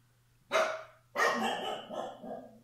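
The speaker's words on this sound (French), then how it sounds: "Il fallait bien que les chiens fassent une apparition. Même juste auditive." Dogs barking indoors, two loud close barks in quick succession, the second trailing into further rough barking over a low steady hum.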